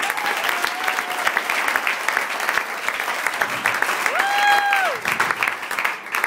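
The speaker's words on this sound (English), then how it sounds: "Everybody give that lady a round of applause" Round of applause for Patty during a speech at a gathering, brisk steady clapping from the room at close range, joined by a brief whistle or cheer partway through.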